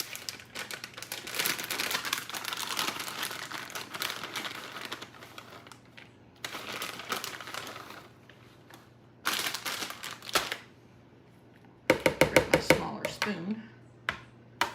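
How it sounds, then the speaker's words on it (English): Cooking ingredients are mixed by hand for a hashbrown chicken casserole, with peas, carrots and about two cups of shredded cheddar: rustling, crinkling and scraping come in bursts with pauses, close up, and a louder run of clattering strokes near the end. "I'm going to mix all of that together with about 2 cups of shredded cheddar."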